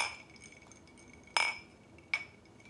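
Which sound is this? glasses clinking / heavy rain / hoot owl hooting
glasses clinking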